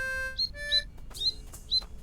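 Four short high chirps from a bird in Snufkin: Melody of Moominvalley, evenly spaced about half a second apart over soft background music, clear and fairly close.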